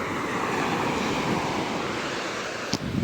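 Sea waves wash onto the shore near a coastal temple, making a steady broad roar of surf with wind buffeting the microphone, continuous and close, with no one talking.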